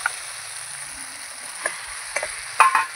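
Spices with asafoetida fry softly in a pan with a quiet, steady sizzle, then pumpkin pieces go in, bringing a few sharp clatters and a louder burst of hissing near the end.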